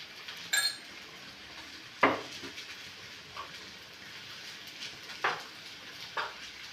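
Ingredients being stirred and mixed in a ceramic cooking pot, with a few sharp clinks of a utensil against the pot standing out over a soft, steady background hiss.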